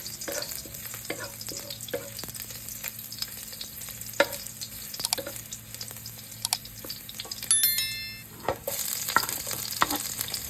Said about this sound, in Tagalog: gigisa lang natin yung bawang at sibuyas